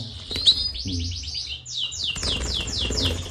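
Canaries chirp and trill in rapid repeated sweeping phrases, several birds at close range over a low background hum, with no talking.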